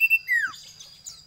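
A caged common iora songbird sings in the morning sun, giving clear, close, high whistled notes with a descending slur followed by softer twittering.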